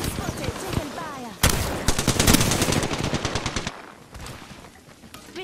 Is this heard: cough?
no